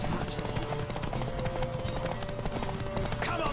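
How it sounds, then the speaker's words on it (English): A horse gallops in a race in the video game Witcher 3, its rapid hoofbeats pounding in a dense, continuous, loud clip-clop rhythm, with faint voice-like sounds mixed in. "நடுவுல ஒரு குதிரை ரேஸ்."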